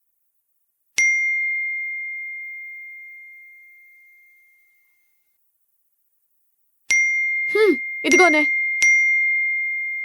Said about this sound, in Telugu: నోటిఫికేషన్స్ చాలా వస్తున్నాయి